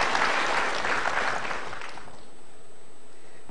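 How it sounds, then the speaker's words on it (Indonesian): An audience breaks into loud, full applause at a motivational talk show taping; the clapping fills the room, then thins and fades to near silence by the end, with no talk over it. "Kita berikan tepuk tangan."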